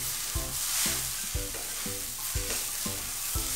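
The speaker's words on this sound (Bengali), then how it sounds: "তাই আমি চালটাকে একটু ভালো করে নাড়াচাড়া করে নিচ্ছি।" Raw rice for pulao is stir-fried in a pan, a spatula scraping and tossing it in a steady rhythm of about eight strokes over a constant sizzling hiss, close and clear with no voices.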